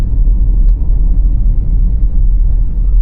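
Hyundai i10 in second gear rolling slowly along a narrow road below 30 km/h, heard from inside as a loud, steady low engine drone and road rumble with no voices.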